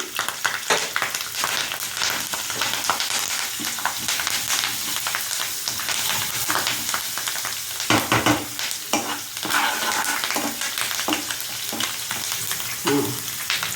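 Mustard seeds, cumin, dried red chillies, garlic and hing temper in hot oil for a ripe chilli pickle, making a loud, dense sizzle with continual crackles, pops and stirring scrapes.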